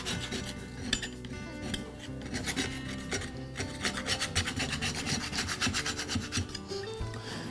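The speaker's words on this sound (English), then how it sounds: "I'll start by using a scraper to clean the grass buildup off of the blade" A metal scraper rubs and rasps steadily across a lawnmower blade, clearing caked grass buildup in continuous close scraping strokes with no talking.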